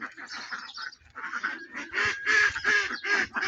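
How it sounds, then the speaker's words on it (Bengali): Ducks at a village duck farm that also keeps chickens, loud honking quacks in a rapid run of calls, close by, growing busier toward the end. "এখানে হাঁসও আছে, মুরগিও আছে।"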